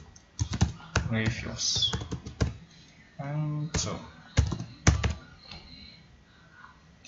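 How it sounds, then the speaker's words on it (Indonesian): Computer keyboard keys tapped as a short search phrase is typed during a web-scraping tutorial, a few crisp clicks standing out between stretches of a person speaking. "teman-teman ketikkan show all"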